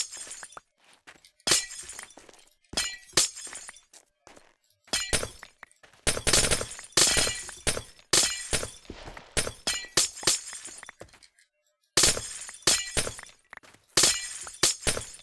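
Blocks of ice shatter again and again in Minecraft, sharp glassy crashes and tinkling breaks arriving in rapid clusters separated by short silences, loud and close.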